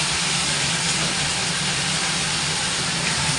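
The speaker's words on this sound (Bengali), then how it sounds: "এখন আমি ঢেলে দিচ্ছি কাঁচা লঙ্কা বাটা আর জিরে বাটা" Green chilli and cumin paste hits potatoes and green plantains frying in hot oil, producing a loud, steady, unbroken sizzle throughout.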